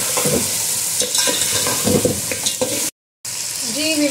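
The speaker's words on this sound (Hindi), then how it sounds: "अब इसकी अच्छे से भुनाई करनी है।" Meat and ingredients for a white Eid pulao being fried and stirred in a pot, with loud close sizzling and scraping stir strokes, a short break of silence, then the sizzle returning.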